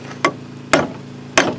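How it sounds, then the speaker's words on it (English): A hammer strikes a crane brake band three times at uneven intervals, each a sharp, loud metallic clang with a short ringing tail, heard close up in a workshop over a low steady hum. "Now take the hammer here and hit that."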